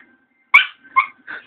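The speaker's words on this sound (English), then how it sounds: "Don't bark, you're going to hurt yourself." Small dog giving three short, close barks mixed with whimpering yelps, each burst separated by brief pauses over a faint steady whine.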